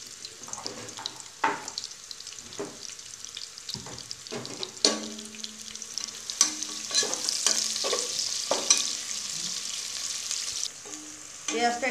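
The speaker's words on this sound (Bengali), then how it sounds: "তেলটা গরম হয়ে গেলে আমি তার মধ্যে দুইটা মিডিয়াম সাইজের পেঁয়াজ দিয়ে দিব" Two medium chopped onions fry in hot oil for a home-cooked chicken tehari, a steady close sizzle broken by scraping and clinking as a utensil stirs them in the pan.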